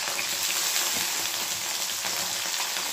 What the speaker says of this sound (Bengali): এরপর আমি দিয়ে দেবো এর মধ্যে শিমটাও ভেজে নেব